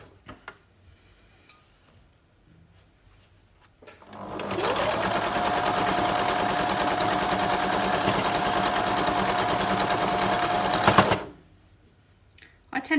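A sewing machine stitches strips of a Jacob's Ladder quilt block, running in one continuous fast whirring, ticking burst of about seven seconds, close and fairly loud, with quiet handling noises before and after.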